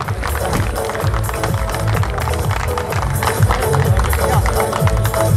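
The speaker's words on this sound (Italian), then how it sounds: "Un grosso applauso" Spectators clap and cheer for rally crew Profeta and Raccuia at the 2021 5th Rally Castiglione Torinese, a dense, steady wash of applause throughout with a voice faintly over it.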